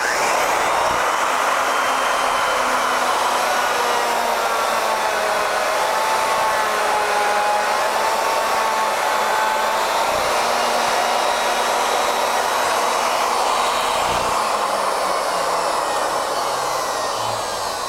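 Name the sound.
router cutting around the circumference on ornamental mill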